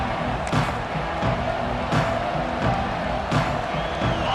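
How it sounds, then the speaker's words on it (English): A stadium crowd in EA Sports College Football 26 roars steadily and loudly throughout, with swelling bursts of cheering and a few dull thumps at intervals. "This crowd ready to make its presence known."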